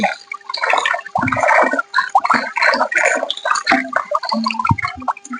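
Spring water coming down from a hillside runs and splashes close by, an uneven gurgling flow with bursts and brief lulls.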